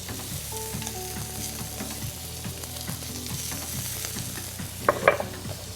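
Lentils being stirred in a hot pan, a continuous sizzle with regular scraping strokes of a utensil, ending in a brief sharper clink near the end.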